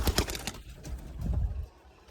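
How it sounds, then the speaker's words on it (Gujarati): A pigeon chick on a rooftop loft coos softly in a few low, brief calls, with faint rustling and flutter around them and no voices. "એક બચ્ચું છે કબૂતરનું,"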